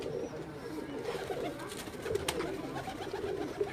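Pigeons coo softly on a rooftop, their low murmuring calls repeating over faint background noise, fairly quiet and close by.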